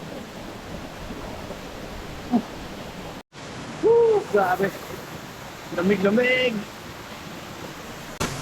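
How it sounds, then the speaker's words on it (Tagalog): A waterfall in Jamindan, Capiz, gives a steady, broad rush of falling water throughout, while people nearby cheer and talk loudly over it. "Maliligo na tayo dito sa napakalagot na falls"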